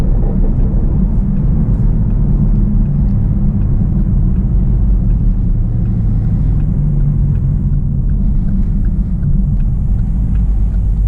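A loud, steady V8 engine rumble from inside a moving Chevrolet Camaro SS 1LE around town, deep and continuous with a low burbling throb that holds throughout.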